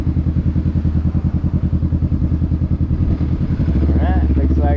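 A motorcycle engine idles close by while the rider waits, giving a loud, steady, pulsing chug that begins to rise in pitch toward the end.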